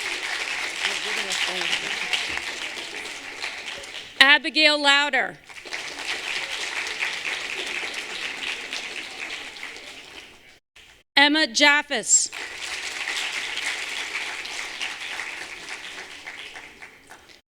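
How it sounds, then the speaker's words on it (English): An audience claps at a senior awards night, a long steady stretch of applause broken twice by a voice announcing names, then resuming at the same level. "You can clap, it's fine."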